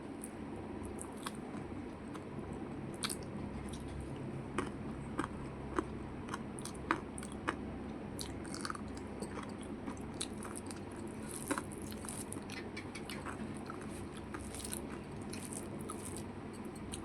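Someone chews boiled vegetables and very hot chillies, producing soft, close mouth sounds with occasional sharper bites and crunches over a faint steady background, without speech.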